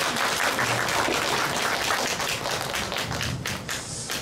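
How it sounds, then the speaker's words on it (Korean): An audience applauds to welcome a film director onto the stage at a forum on independent living for people with developmental disabilities, dense sustained clapping filling the room and tapering slightly toward the end. "감독님 다시 한번 따뜻한 박수로 모시도록 하겠습니다"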